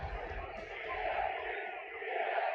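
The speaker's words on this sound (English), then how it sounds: "Crowd firmly behind the EST in this match tonight, as you can hear in the chants coming from the audience" Arena crowd in the WWE 2K24 wrestling video game, a sustained roar of chanting from the audience that swells steadily throughout the clip.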